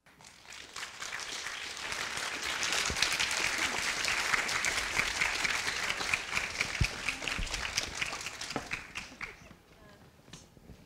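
An audience at a university lecture event claps in sustained applause that swells, holds for several seconds, then tapers off, with voices murmuring underneath.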